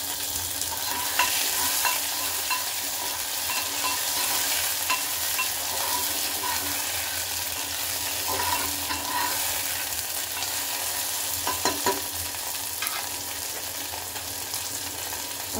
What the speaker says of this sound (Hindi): अब इसमें टमाटर डालेंगे फ्रेंड्स, जो मैंने काट के रखा था ना